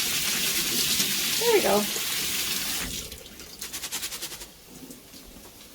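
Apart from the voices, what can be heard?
lentils rinsed in a colander under running tap water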